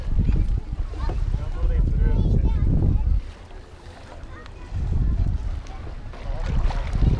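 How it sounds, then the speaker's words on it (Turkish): A small boat's engine and water noise surge and fade as it moves away from a beach, under wind buffeting the microphone, with voices talking nearby. "Teknemiz gidiyor."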